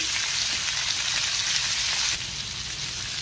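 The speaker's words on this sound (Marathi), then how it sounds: "त्यातच मी हळद घालते आणि आपल्याला व्यवस्थित तेलावरती परतून घ्यायची कैरी।" Raw mango pieces with turmeric frying in oil, a dense, steady close-up sizzle that carries on without a break and drops slightly in level near the end, with no talking.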